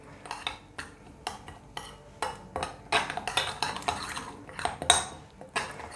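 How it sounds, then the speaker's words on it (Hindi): A spoon clinks and scrapes against a bowl while spices are mixed into fish for Lahori fried fish, a close, irregular run of metallic taps and stirring scrapes with no talk. "ये सारे मसाले मैं इसमें ऐड कर दूँगी। इनको थोड़ा सा मिक्स करूँगी।"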